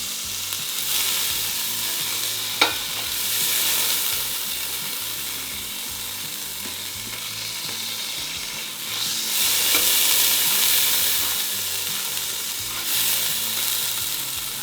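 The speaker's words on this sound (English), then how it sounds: "this is what we're going to use to cook our onions and the beef." Onions frying in fat taken from bone broth for a keto taco soup, a steady close hiss and crackle that swells and eases, with one sharp click early on.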